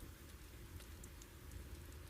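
Steady rain falls as a soft, even wash through an indoor ambience, with occasional drips or taps; faint and continuous with no voice.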